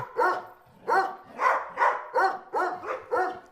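A dog barks at an SPA animal shelter: seven barks in a steady, even rhythm, close and fairly loud, with no talking.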